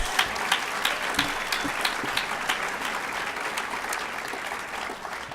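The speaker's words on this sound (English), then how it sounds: "Give her a great big round of applause." An audience at an opening celebration gathering gives a loud round of applause, dense clapping with a few sharp individual claps standing out, sustained evenly for several seconds.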